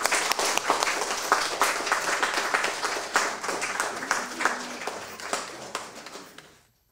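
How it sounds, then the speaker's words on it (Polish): A church congregation applauds steadily for several seconds, dense clapping that fades out at the end, at a priest's ordination anniversary celebration. "Brawa dla Ojca Grzegorza."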